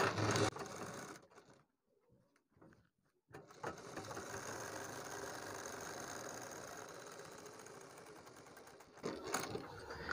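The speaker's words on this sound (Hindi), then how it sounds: "हम यहाँ पर अपनी सिलाई करते हैं शुरू यहाँ से लगाएंगे" A sewing machine runs steadily, stitching a neck design on fabric: a close, even mechanical whir for most of the stretch after a brief pause near the start, with a short burst at the end and no talk.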